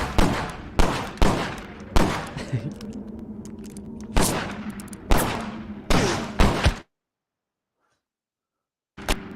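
Gunfire in the video game Grit, a series of sharp single shots with ringing tails at irregular intervals, then the sound cuts to silence for a couple of seconds before one last shot.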